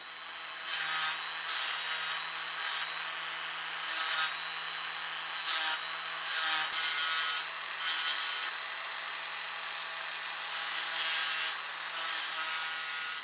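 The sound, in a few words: Dremel rotary tool shaping a swimbait lure tail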